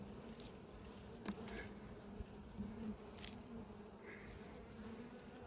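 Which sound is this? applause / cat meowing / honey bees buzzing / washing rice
honey bees buzzing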